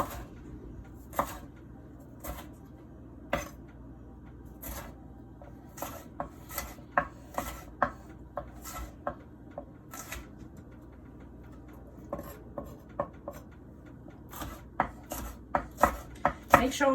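A knife chops bell peppers on a cutting board: sharp, close taps, sparse and uneven at first, then quicker runs of chops that speed up toward the end over a low background hum.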